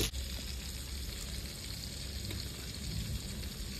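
Chicken kathi kabab fries in a pan with a steady, dense sizzle that stays close and even throughout, with no talking over it.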